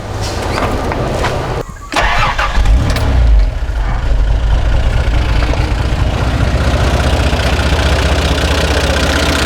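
A Toyota 60 Series engine with a rebuilt carburettor cranks and fires up after a brief pause, then settles into a smooth, steady idle without coughing or spluttering, loud and close.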